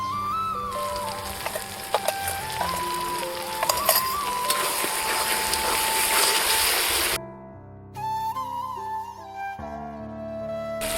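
Spice paste of dried chilli, cashew and mustard with salt frying in oil for a katla fish curry, giving a steady soft sizzle beneath prominent background music; the sizzle drops away as the music continues alone.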